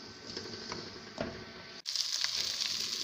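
Onions browning in a pan for a fish fry masala gravy give a soft, steady sizzle and light crackle that drops out for a split second before resuming slightly brighter.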